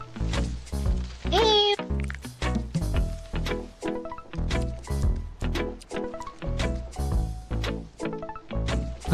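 A cat meows in a video game, one clear, loud, rising meow early on among repeated soft thuds and clicks of gameplay, with a person talking.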